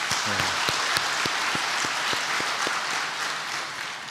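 A church congregation applauds for several seconds, dense steady clapping filling the space with a few sharper, rhythmic claps standing out near the start.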